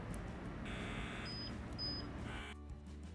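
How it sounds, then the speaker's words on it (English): Two short, high-pitched electronic beeps from a home hydra facial suction device sound faintly over its steady machine hum. "If not, your machine will make a alarm sound just like this."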